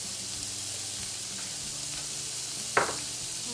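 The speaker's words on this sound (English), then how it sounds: "In the skillet, we're going to add bacon. 4 strips of bacon. We're just gonna crisp it up." Four strips of bacon crisping in a skillet give off a steady, even sizzle and hiss, with a single short clatter near the end.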